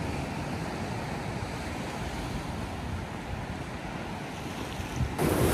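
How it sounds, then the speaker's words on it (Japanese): Strong ocean waves surging onto the shore at Amaharashi Beach, a dense continuous roar of surf with heavy wind noise buffeting the microphone, loud and unbroken with no voices. "ちょっと波の勢いがすごかった。"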